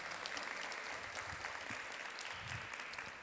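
Audience at a law conference panel applauds, a dense, steady clatter of many hands clapping that carries through the whole stretch and tapers slightly at the end.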